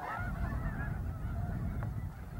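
Geese honk at a wildlife refuge in Bosque del Apache, New Mexico, with a run of repeated calls, faint and distant, over a steady low outdoor rumble.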